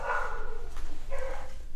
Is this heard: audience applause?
no